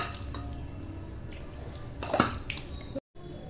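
Running water from a tap splashes and drips as something is rinsed after pounding ingredients for a Tamil kambu idli and chutney recipe. The sound is steady and moderately close, with a louder splash midway and a brief cutoff near the end.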